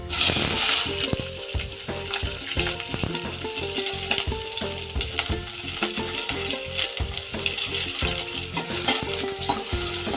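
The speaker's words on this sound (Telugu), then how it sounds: "మంచిగా వేగనిద్దాము ఉల్లిపాయ, పచ్చిమిరపకాయలు అయితే" Onions and green chillies sizzle in hot oil for a chicken gravy curry, a loud continuous frying hiss broken by frequent sharp clinks and scrapes of a spoon stirring the pan, with no talking.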